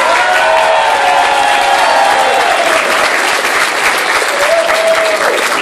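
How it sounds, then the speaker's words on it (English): Concert crowd at a theater gig gives a loud, sustained round of applause with cheering and whoops, a dense roar of clapping lasting several seconds. "Can we all give him a round of applause, please?"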